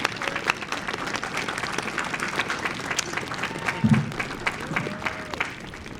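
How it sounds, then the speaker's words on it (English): At a university graduation ceremony, the audience applauds the parents and grandparents: a fairly soft, continuous spread of clapping heard from a distance, with a brief bump of sound partway through. "I would like to ask you all to stand as we applaud you"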